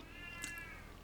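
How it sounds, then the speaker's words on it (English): An elderly 19-year-old female domestic cat gives one faint meow partway through, heard alone against quiet room background with no talking. "If you can hear the cat meowing, that is our 19-year-old female cat."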